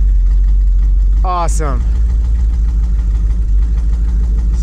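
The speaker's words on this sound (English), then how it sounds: "Since you guys can hear the stereo sound coming from the exhaust" Barkas B1000 van engine idling steadily right after starting, a continuous low rumble from the exhaust with a brief vocal exclamation over it.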